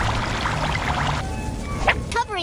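Water pours in a steady splashing stream for about a second to wet a towel in a cartoon fire-safety scene, then fades into softer trickles and brief tonal effects.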